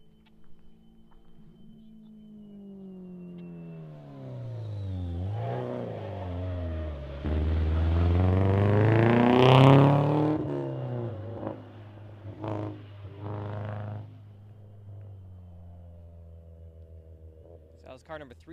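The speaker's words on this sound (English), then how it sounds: "Car 685 started." Rally car leaving the start line at The Ridge Motorsports Park super special stage, Olympus Rally 2017: engine revs climb through several gears, loudest mid-run, then fades into the distance, with talk over it.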